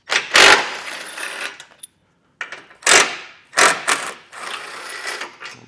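A ratchet works loose the 16mm tow hook bolts on a 2024 Jeep Grand Cherokee L, several close, loud bursts of rapid clicking separated by brief pauses.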